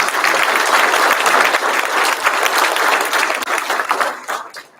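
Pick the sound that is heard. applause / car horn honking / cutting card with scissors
applause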